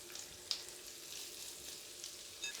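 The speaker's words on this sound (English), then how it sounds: "And I'm now adding my liver. Ensure that the pan is nice and hot." Liver frying over high heat in a very hot pan, a close, continuous crackling sizzle with scattered sharp pops and spits, moderately quiet and with no talk.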